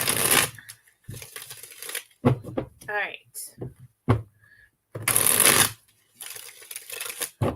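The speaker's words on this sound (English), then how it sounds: "I'm having a hard time shuffling." Playing cards being shuffled by cold hands during a live card reading, bursts of crisp riffling alternating with speech between them.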